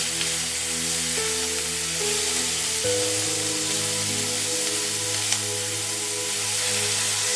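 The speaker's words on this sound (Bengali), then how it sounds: "এবার আমি গাজর কুচি, দিয়ে হালকা নাড়াচাড়া করব।" Chopped carrot cooks in a pan with a soft, steady sizzling hiss, heard beneath background music, with one brief sharp tap of a utensil.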